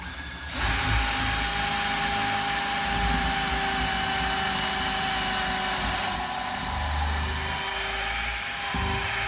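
A drill bores holes into a garage wall while mounting an e-bike rack, giving a continuous, fairly loud mechanical whine that runs for about nine seconds with a brief dip partway through.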